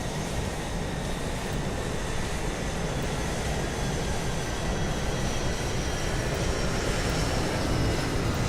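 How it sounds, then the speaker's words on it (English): Loud, continuous cabin drone of a Boeing 777 airliner's engines in Microsoft Flight Simulator, a dense low rumble with faint steady tonal whines above it, unchanging and without speech. "I don't understand why the plane engine is so loud in my cabin."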